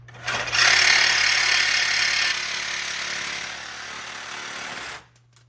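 A cutoff wheel grinds through a stuck bolt on an overland rig, a loud continuous high-pitched screech with a steady motor drone underneath, running for about four seconds before winding down.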